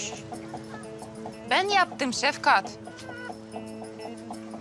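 Chickens cluck and squawk in a coop, several short calls bursting over a steady background hum, fairly close, while a person speaks briefly nearby.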